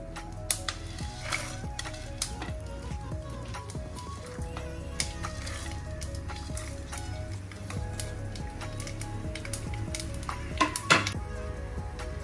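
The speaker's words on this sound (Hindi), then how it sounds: "तेल में अच्छे से भून के ले लेंगे। देखिए चटकारे आना शुरू हो गई है ना" Peanuts and drumsticks sizzle and crackle as they roast in hot oil in a home kitchen, a steady frying hiss under repeated clinks and scrapes of a utensil against the pan, with one louder clatter near the end.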